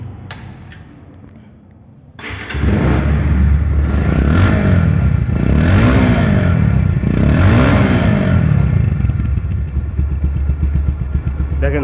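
A 2023 motorcycle with only 600 km on it starts after a short quiet lull, then runs loud and close, idling steadily with a few rising and falling revs.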